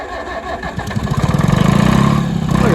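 An antique tractor engine at a show with century-old farm machinery cranks and fires up, building into a rapid, loud, rhythmic chugging pulse close by.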